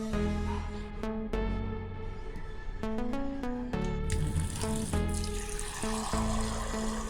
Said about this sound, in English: Add some water into a cup.